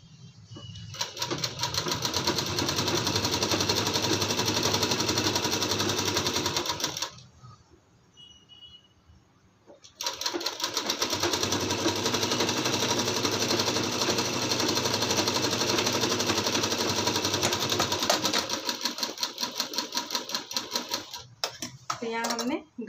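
Sewing machine stitching the neckline of a lined kurti suit, a loud fast steady mechanical whir that stops for about three seconds, then runs on and slows toward the end, with a voice speaking.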